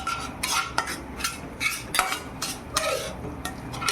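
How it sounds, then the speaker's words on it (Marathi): A spoon scrapes and stirs onion-tomato masala for brinjal masala in a pan, making close, regular scraping strokes about twice a second with light clinks of metal on the cookware. "आता चांगलं व्यवस्थित हलवून घ्यायचं आपल्याला"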